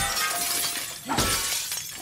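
Glass display case shattering in The Last of Us Part II, a sudden crash of breaking glass with scattered tinkling shards over a noisy game ambience, brief and close.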